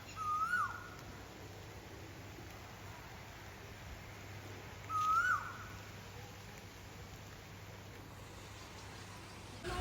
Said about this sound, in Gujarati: તો કોયલ બોલે છે